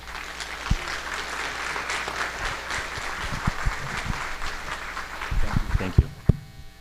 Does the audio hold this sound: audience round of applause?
yes